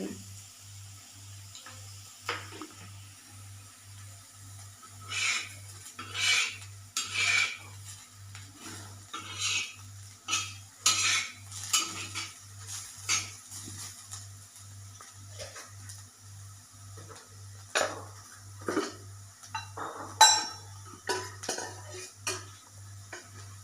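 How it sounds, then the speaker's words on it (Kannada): Sliced bitter gourd stir-fried in a pan with a spoon of oil for a Karnataka-style palya, heard as scattered spoon scrapes and clinks against the pan over a soft sizzle, with no talking. "ಸ್ವಲ್ಪ ಆಯಿಲ್ ಹಾಕಿ ಹಾಕಿ ಚೆನ್ನಾಗಿ ಹುರ್ಕೋಬೇಕು"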